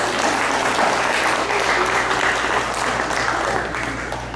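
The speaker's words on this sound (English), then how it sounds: "Let's have a big round of applause for teachers." Audience applause for teachers at a school event, a steady continuous wash of many hands clapping that fades slightly toward the end.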